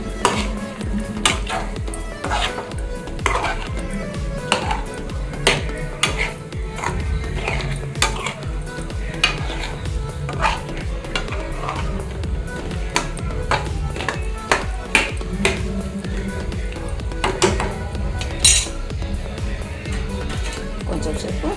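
Masala being stirred while it fries in oil in a pan for a kaju chicken gravy: repeated metallic clinks and scrapes of a spoon against the pan under a faint sizzle, with someone talking throughout.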